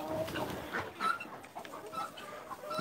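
Ground birds waiting to be fed cluck and chatter in a loose, irregular flurry, soft and a little distant, with scattered short calls overlapping one another.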